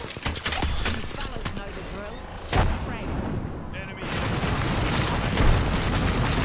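Video-game gunfire in a multiplayer shooter match, with repeated sharp shots and booming blasts from another team, dense and continuous under players' voices talking throughout.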